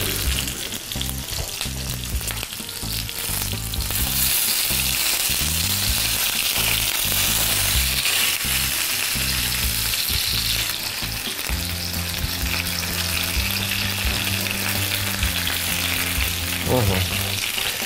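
Food frying in a pan, a continuous close sizzle and crackle of hot oil heard over steady background music, with no speech.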